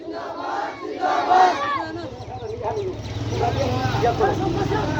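A crowd at an Eid-e-Miladunnabi rally chants the Naraye Takbir slogan, with many voices shouting together in loud, rhythmic bursts that rise and fall over a steady crowd murmur.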